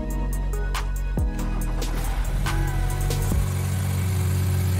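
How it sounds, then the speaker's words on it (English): A BMW F30 330e engine starting after a spark plug replacement, a loud steady engine sound with a brief rising rev early on, then settling into an even run at close range. "Reinstall all engine covers and start the engine."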